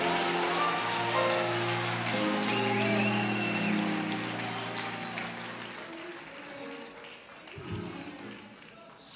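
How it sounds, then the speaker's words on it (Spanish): Congregation applause in a church during a Spanish-language sermon, a steady wash of clapping under strong sustained tones, fading toward the end with a few louder thumps. "dale un aplauso a Dios"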